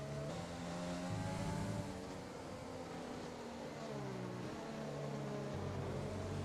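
Formula 1 racing car engines in the F1 2020 video game at the Austrian GP whine loudly and continuously, their pitch rising and falling with gear changes as several cars run close together, with no talk over them.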